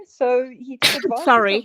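One sharp, close sneeze bursts out between bits of a man's speech, loud and noisy, followed by more talking.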